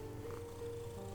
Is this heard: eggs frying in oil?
no